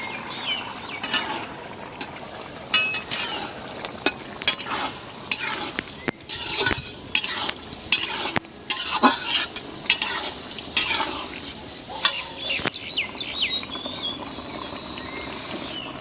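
Shing fish, a stinging catfish, are sautéed in a pan and stirred repeatedly, giving a soft frying sizzle broken by irregular scraping and tapping of the utensil against the pan, close up and with no talk.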